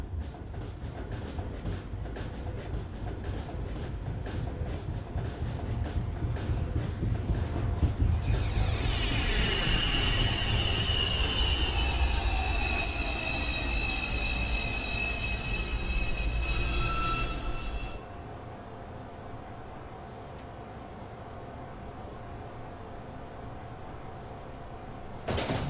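NYC subway 2 train, an R142A, pulling into a station with a rumbling approach, rising wheel squeal and screeching brakes that cut off abruptly, then a quieter idling hum on the platform.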